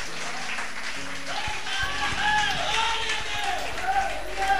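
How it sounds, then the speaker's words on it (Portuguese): A church congregation applauds during a sermon, a sustained wash of clapping mixed with voices and a low hum, moderately distant throughout. "Aplauda o Senhor Jesus."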